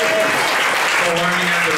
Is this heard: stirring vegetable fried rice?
no